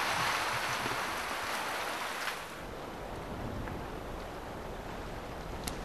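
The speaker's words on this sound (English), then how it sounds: "Rain was coming down on the corrugated iron for hours. Sounded like we were sleeping under a waterfall." Heavy rain drums on a corrugated iron roof in Mozambique, a loud, dense, continuous hiss and patter that eases slightly halfway through and carries on steadily with no voices.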